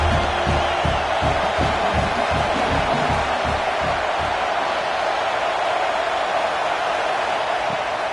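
A video game stadium crowd at a college football game, Georgia at Auburn, roaring steadily with a loud wash of cheering, rhythmic thumping early on, and a commentator talking over it.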